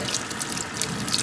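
Makeup brushes rinsed under a running tap at a sink, a short burst of steady close water flow with bright splashy texture, heard alone.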